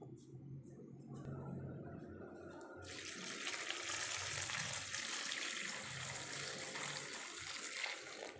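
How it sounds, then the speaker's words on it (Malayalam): Fenugreek leaves are washed for homemade kasuri methi, with water running from a tap into a vessel. A quiet stretch of handling gives way to a steady, close rush of flowing water that continues to the end. "ഇനി നമുക്കിത് വെള്ളം ഒഴിച്ച് നല്ലതുപോലെ കഴുകിയെടുക്കണം"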